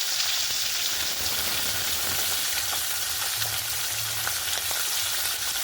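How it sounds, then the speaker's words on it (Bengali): Fish frying in hot oil in a wok (kadai), a steady, close, loud broadband sizzle with crackling pops running throughout, no voices. "এবার মাছ ভাজার জন্য দিয়ে দেবো।"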